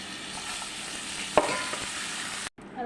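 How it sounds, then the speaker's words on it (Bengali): Pumpkin slices rubbed with turmeric and salt fry in hot oil in a wok, giving a steady close sizzle. One sharp utensil clack cuts in partway through, and the sound stops abruptly near the end. "কুমড়ো ভাজা করব। তেলটা গরম দিয়েছি কড়াইতে।"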